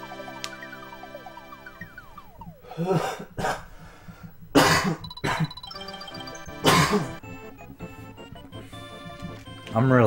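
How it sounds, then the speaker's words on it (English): Several loud, harsh coughs burst out in a cluster over a background of tinkling, melodic electronic tones and chimes from Yoshi's Island. "I'm really sorry about the loud coughs."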